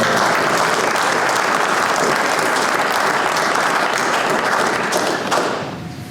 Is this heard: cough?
no